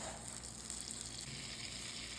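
Half a stick of butter melts into sausage grease in a cast iron pan, giving a steady, soft sizzle and faint bubbling that stays even throughout, with no voices.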